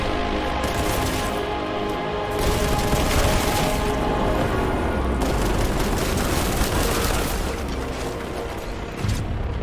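Dense, continuous video game combat with heavy booming grenade blasts and rapid gunfire layered together, loud and sustained throughout with no pauses.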